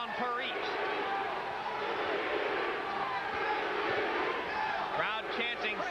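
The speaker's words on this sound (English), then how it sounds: "Crowd chanting, "Sweet pea," A boxing arena crowd at a Pernell Whitaker fight against Wilfredo Rivera roars and chants "Sweet Pea," a dense, steady wall of voices throughout.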